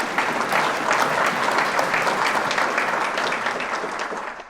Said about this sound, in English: So could you give them a round of applause, please?